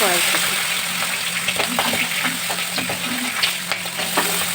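Green peas fry in hot oil in a wok with cumin and bay leaves, a close, steady sizzle with crackles and stirring scrapes running throughout.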